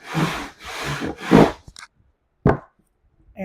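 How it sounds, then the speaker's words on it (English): Guitar top wood rubbed against a radius dish during sanding, three long rasping strokes in steady rhythm followed by a couple of brief scrapes, close and loud with no talking. "So I'm sanding a little more."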